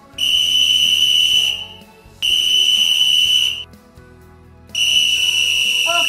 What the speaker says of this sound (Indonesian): sebentar lagi peluitnya bakalan bunyi